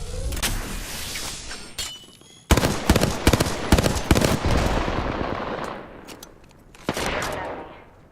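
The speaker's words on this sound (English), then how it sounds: "Listen up, I'm getting shot at." Rapid automatic gunfire rattles in loud, dense bursts during an Apex Legends firefight, with a short lull before a sharp renewed volley and a final burst near the end.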